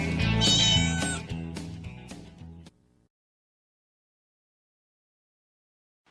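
A loud, drawn-out cat meow plays in a radio-style advertisement, several wavering cries in a row, then cutting off to silence.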